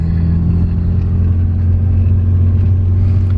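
A Nissan 350Z Nismo engine rumbles steadily close by as the driver feeds it a little gas, producing a continuous low, throaty drone with a mild rise in revs and no speech.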